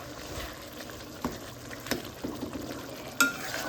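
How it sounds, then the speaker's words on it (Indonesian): Pork rica with basil leaves being stirred in a pan, a faint scraping and light sizzle with a few soft utensil knocks, quiet and close. "Sekarang waktunya kita masukkan daun kemangi."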